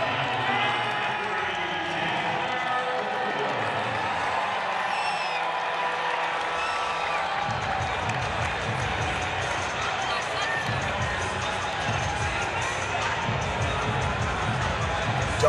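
A packed baseball stadium crowd at an Angels home game against the Cleveland Guardians in April 2022 cheers in a steady, dense roar that holds throughout and swells slightly in the second half.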